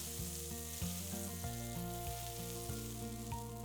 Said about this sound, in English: Heat up your waffle iron and brush some melted butter over the surface of the iron.